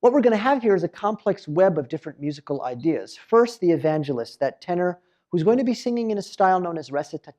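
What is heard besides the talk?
None of the usual background noises is heard.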